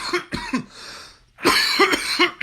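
A person coughs close to the microphone in several harsh, raspy bursts, a pair of coughs, a short pause, then a fuller run of hacking coughs.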